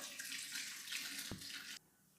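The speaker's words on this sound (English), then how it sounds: "Now also add hot water to this." Hot water poured into a mud pot, a steady splashing stream heard up close that cuts off abruptly near the end.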